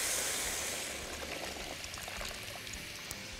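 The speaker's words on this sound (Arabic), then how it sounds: "هدي بقى ميه سخنه للسان العصفور هنا" Hot water pouring steadily into a pot of orzo, a continuous splashing hiss that gradually settles, close and moderately quiet.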